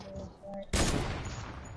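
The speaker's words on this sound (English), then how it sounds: "I trick chat with a heavy sniper" A heavy sniper rifle fires in a video game: one sharp, loud shot breaks in after a quiet start, leaving a broad noisy tail that fades slowly.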